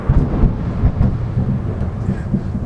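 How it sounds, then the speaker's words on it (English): Thunder from a thunderstorm rolls in a low, heavy rumble, loud and continuous for several seconds, with rain noise mixed in and no voices. "We're certainly not fishing today with all the thunder and lightning."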